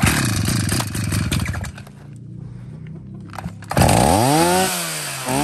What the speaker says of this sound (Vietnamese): sau đây thì em sẽ cho các bác nghe tiếng máy nổ của nó.